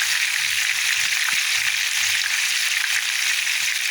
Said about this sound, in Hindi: ये देखें जी हमारे जो शबली कबाब है वो फ्राई हो चुके हैं